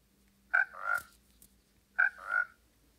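Two clear frog croaks from Minecraft, each a quick double-pulsed call, spaced about a second and a half apart over a quiet, faintly humming game background.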